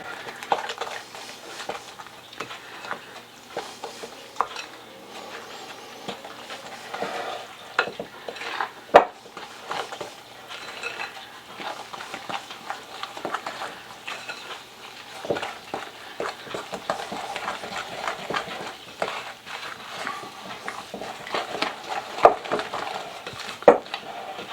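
A spoon stirs corn bread batter made with corn, sour cream and eggs in a bowl, giving a steady wet, scraping churn with occasional clinks against the dish that runs continuously and close by.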